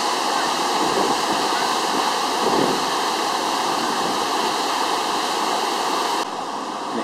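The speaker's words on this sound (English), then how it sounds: "And here's the water at the waterfall." Roaring, steady rush of a waterfall swollen by hurricane rain, loud and close, a continuous broadband wash with no letup.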